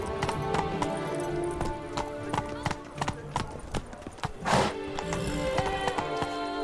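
Hoofbeats of a horse galloping in The Witcher 3 thump steadily and close, with a whinny partway through over game ambience.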